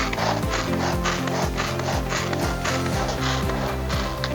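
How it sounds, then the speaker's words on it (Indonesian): A turbo chopper grinds and rubs through spices in a steady, continuous rasping churn, loud and close, with repeated rhythmic scraping strokes and no voices. "turbo chopper ini menjadi andalan saya untuk mencacah bumbu-bumbu"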